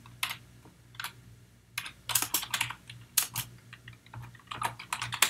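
Keys clatter on a computer keyboard in bursts of quick typing, close and crisp, with short pauses between runs of keystrokes over a faint steady hum, and no voices.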